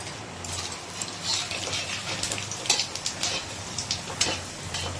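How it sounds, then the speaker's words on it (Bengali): Whole spices hit hot oil with melted sugar in a pan for a Bengali cauliflower, potato and paneer curry, giving a steady close crackling hiss with scattered sharp pops and no talk. "এবারে দিয়ে দিচ্ছি গোটা ফোড়ন, দিয়ে দাও।"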